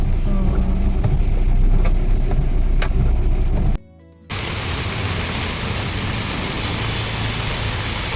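Steady rain falling outdoors on a wet day on the way to Sanpada, a dense broadband hiss that holds throughout apart from a short break in the middle, with faint traffic in the background.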